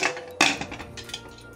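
A metal pressure cooker lid is pushed shut on a kitchen stove, giving one sharp clank followed by a few faint rattles and scrapes, close by and with no talk.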